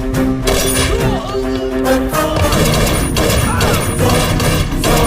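Rapid gunfire crackles through a gangster film shootout, a dense, loud run of shots and crashes layered over a tonal soundtrack with no break.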